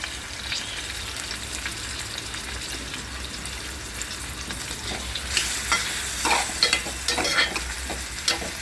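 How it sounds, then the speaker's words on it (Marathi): Chopped onion and tomato fry in a pan with a steady low sizzle, then louder scraping and stirring clatters come in near the end, close and without talk. "कांदा टोमॅटो मस्त भाजून निघाला पाहिजे"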